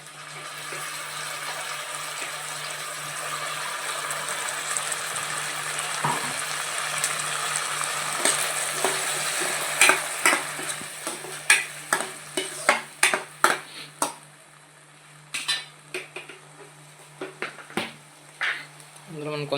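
Ground tomato paste sizzles in a hot pan for a capsicum tomato masala curry, a steady hiss at first, then a run of sharp spoon clinks and scrapes against the pan as it is stirred.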